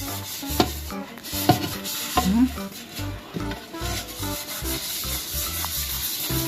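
Close-up scrubbing and rubbing of dishes, with a few sharp clinks of dishware knocking together and a low steady background hum.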